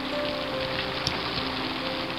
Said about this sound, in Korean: 비 오는 날 오후 아침엔 안 오던 비가 내린다.